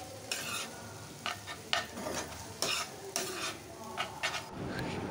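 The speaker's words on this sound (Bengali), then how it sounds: "এরপর আমি সবগুলোকে একটু মিশিয়ে ভাজা ভাজা করে নেব" Vegetable noodles with tomato sauce are stir-fried in a pan: a steady sizzle broken by repeated scraping strokes of a spatula, close and moderately loud, with no talking.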